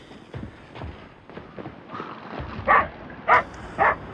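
A dog barks in a cartoon: a few soft scuffling taps lead into three sharp, loud, close barks spaced evenly near the end.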